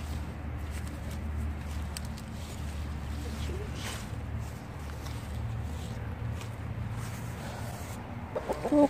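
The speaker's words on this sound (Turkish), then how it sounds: "Yaramaz tavuk bunlar." Chickens cluck in a garden plot, soft and intermittent clucks over steady low background rumble, with a few louder noises near the end.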